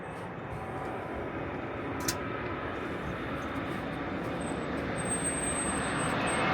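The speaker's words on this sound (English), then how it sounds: "There's another flight landing." A passenger plane lands at a busy airport, its engines giving a broad, distant rumbling roar that swells slowly and steadily.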